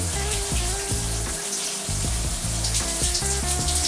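Shower water runs steadily over hair being rinsed after conditioner, a continuous loud hiss and splatter close by with small shifts as the stream moves, no talk.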